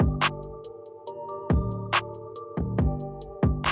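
Programmed hi-hat pattern in a Cakewalk beat with some hits set softer, regular ticks over kick and snare hits and sustained synth tones, steady and close.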